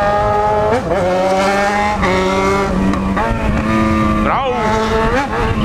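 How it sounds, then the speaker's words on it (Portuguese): The exhaust of a Yamaha XJ6 motorcycle is loud and close as it revs hard over and over, each rise climbing to the rev limiter and bouncing off it in rapid cuts. "Todo mundo manda você cortar giro."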